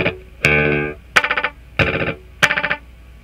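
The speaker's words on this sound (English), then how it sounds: "So 4 hard repeats and then silence." Guitar chords through a Binson Echorec tape echo with all four playback heads engaged, each strike answered by a rapid burst of stuttering repeats that cut off cleanly, loud and up close.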